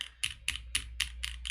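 Keys bottom out on a keyboard built on a Bluetooth hotswap PCB, seven crisp, evenly spaced clacks with no ringing or plate rattle between them, close and fairly quiet.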